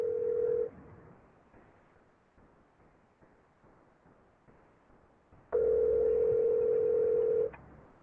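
A telephone dial tone heard while placing a call from a phone during a live interview, a steady loud tone at the start, then quiet, then a second long steady tone returning before cutting off.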